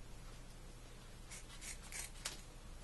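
Scissors cut material in half for a homemade tool belt, giving a few short, close snipping strokes over quiet room noise in the second half.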